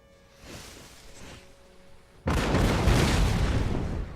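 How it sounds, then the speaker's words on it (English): Cannon artillery fires in Napoleon Total War, a sudden loud booming blast after a quieter stretch of faint rumble and distant battle noise, with the roar sustained to the end and no talking. "So I'm going to focus my artillery fire on the enemy general."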